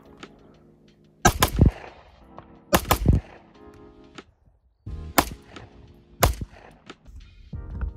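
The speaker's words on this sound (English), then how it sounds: "we're just going to run a couple rounds through, just get the feel for it" Shots from a 2024 Bul Tac 4.25 steel-frame pistol with a full dust cover, fired outdoors as five loud, separate cracks spaced about a second or more apart, each with a short echo, with no talking.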